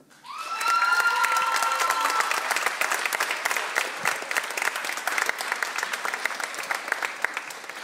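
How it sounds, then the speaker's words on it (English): An audience at a middle and high school band concert bursts into loud, sustained applause after an award is presented, with scattered cheers and whistles at the start, continuing steadily before slowly easing off. "Round of applause again."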